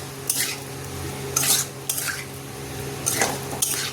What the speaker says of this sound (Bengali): ভালোভাবে ফুলকপি আলুর সাথে মশলাটা মিলিয়ে নেব